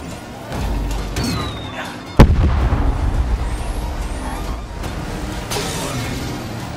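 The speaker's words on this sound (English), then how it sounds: "And there go the rockets." Rockets fire in a Cars 3: Driven to Win battle race with Lightning McQueen: a sudden loud blast, then a sustained roaring rush with rumbling engine noise and scattered bangs.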